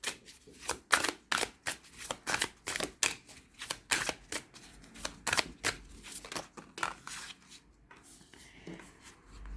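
Oracle cards are shuffled by hand for a pyramid spread, with crisp riffling and slapping bursts in a quick, steady rhythm. Each burst sounds close and clear, and the shuffling slows and softens toward the end, with no speech.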